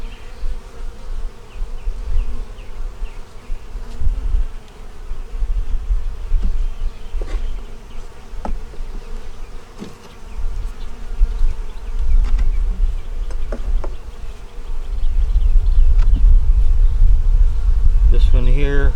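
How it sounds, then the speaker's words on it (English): Honey bees swarm in an opened hive with hatching brood and stored honey, a dense, continuous buzzing drone close to the listener that swells louder near the end, with occasional clicks and knocks of frame handling. "The bees are hatching out."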